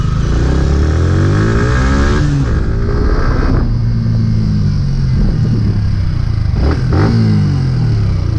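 A Yamaha 150cc motorcycle is ridden at a steady pace, its engine droning loud and close with rising and falling revs and a rough, continuous rumble throughout.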